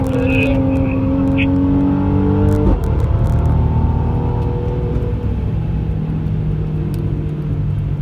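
A Mercedes-Benz C43 AMG on a race track drones loudly and steadily. Its engine note drops sharply partway through as the throttle eases off, then settles into a continuous rumble.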